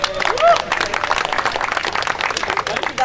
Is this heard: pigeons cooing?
no